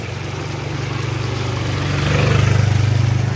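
A motorcycle engine drones nearby with a steady low hum that swells louder as it passes, no voices over it.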